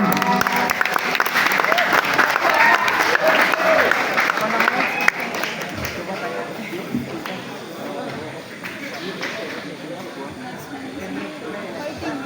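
An outdoor poetry festival audience claps loudly in sustained applause that gradually thins and fades, with voices audible over the clapping.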